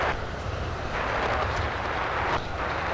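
An American Airlines airliner taking off from runway 25 at LAX gives a loud, steady broadband jet roar with rumbling low end that holds evenly throughout, a little wind buffeting, and no talking.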